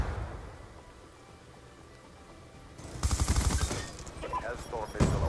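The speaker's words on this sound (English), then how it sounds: "Yeah, that sentry gun is doing work." A sentry gun opens up in the video game Black Ops 2 with a rapid, loud stream of automatic gunfire that follows a quieter stretch, with a further crack near the end and voices mixed underneath.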